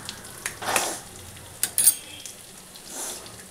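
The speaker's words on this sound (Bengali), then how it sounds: "ডিমটা ভালো করে ভেজে নিই" Egg frying in a pan with fried onion and spice masala for egg tarka, a soft steady sizzle with a few louder bursts of stirring and scraping, fairly quiet and close, with no talking.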